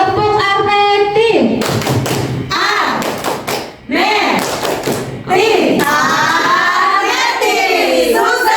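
A group at a school teachers' dissemination session claps a rhythmic clapping chant, sharp thuds and taps in a patterned beat, mixed with voices calling out together.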